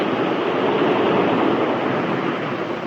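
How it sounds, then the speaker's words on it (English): A rushing, whooshing gush of water from a water intake being opened and shut, a steady broadband surge that holds for a few seconds, played as an old radio drama sound effect with no voices. "That was one of the water intakes being opened and shut, that's all."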